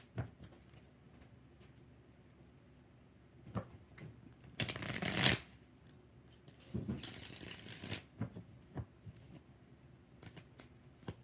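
Tarot cards being shuffled in two loud riffling bursts, each about a second long, with softer card taps and handling sounds scattered around them and no talk.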